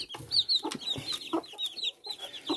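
Chickens and chicks cluck and peep nearby, with short broken clucks and high chirps scattered in a loose, uneven rhythm, fairly quiet and without voices.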